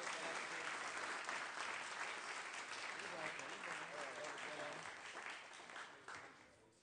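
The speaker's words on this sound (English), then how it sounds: "We want to give him a round of applause and thank him for his service to the Senate and the state." A legislative chamber during a state Senate floor session fills with sustained, dense applause from the members and audience, clapping steadily throughout and thinning out slightly toward the end.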